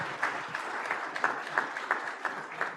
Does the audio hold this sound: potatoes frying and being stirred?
no